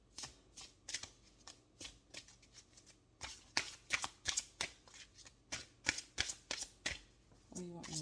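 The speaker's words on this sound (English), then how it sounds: "One more shuffle." Tarot cards are shuffled in a quick series of crisp riffling bursts, one after another across the stretch, close up and fairly loud, with a brief voice near the end.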